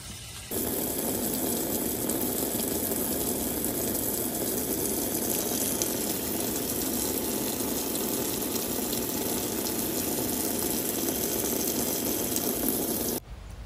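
Steady rushing water pouring into a backyard swimming pool, a loud continuous gushing flow that starts abruptly and stops abruptly at the end, with no talking.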